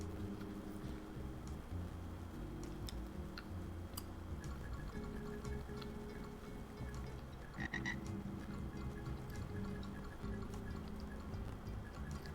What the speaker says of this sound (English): This is one of those where the frogs are more of obstacles than anything.